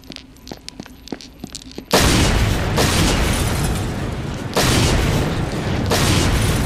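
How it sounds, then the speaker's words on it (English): Grenades explode in a loud, sustained roaring blast that kicks in suddenly after a short stretch of quieter clicking, then surges again partway through and stays dense and overwhelming. "They're grenades!"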